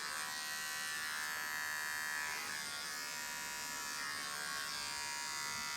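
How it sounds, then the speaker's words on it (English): Wahl electric hair trimmer buzzing steadily and close, a continuous high-pitched motor whine that holds without pause. "this bad boy is, as you can see by its description, a hair trimmer"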